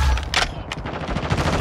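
A hostile sentry gun fires in a Modern Warfare 2 hardpoint match, with rapid bursts of automatic gunfire rattling in quick succession, loud and close, with sharp cracks standing out among the stream of shots.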